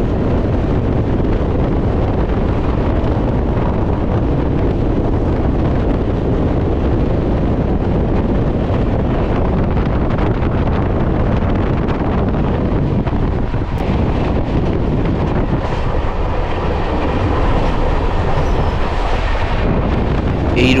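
The Sairang Express on Indian Railways runs on a track rated for 110 km/h as it nears Debagram station. A loud, continuous rumble with wind buffeting persists throughout, with slight shifts in texture near the end.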